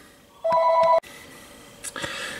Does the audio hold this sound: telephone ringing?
yes